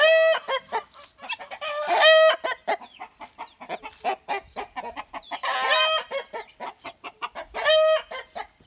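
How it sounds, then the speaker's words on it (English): Agitated guinea fowl and chickens squawk and cluck loudly up close in a frantic, overlapping chorus, with repeated harsh calls and a crow-like cry rising through the burst. "See, my birds are going crazy."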